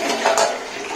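Tap water runs and splashes over kitchen utensils being washed during cooking, a close, steady gush with brief swells.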